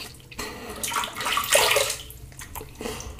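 Water splashing from a running tap as a face is rinsed during a safety-razor shave, irregular close splashes and trickles in a few bursts.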